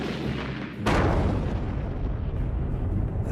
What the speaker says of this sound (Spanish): Demoliciones con munición atómica.